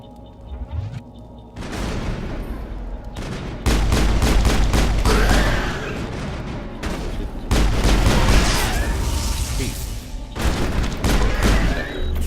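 Gunfire and heavy booms in the sci-fi shooter Mass Effect: a brief lull gives way to loud, sustained bursts of rapid shots and explosive thumps, dense and continuous, with a short drop in intensity before the barrage resumes.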